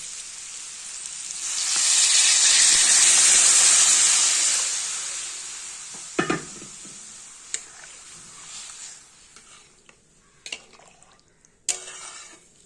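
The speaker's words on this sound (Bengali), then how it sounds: "সব সবজি ভালো মতন ভাজা হয়ে গেছে, দিয়ে দেবো এবারে সেদ্ধ করে রাখা মুগ ডাল।" Fried vegetables hiss in a pan as boiled mung dal is poured in, a strong sizzle swelling and fading over a few seconds, then quieter frying with sporadic spoon clicks and knocks.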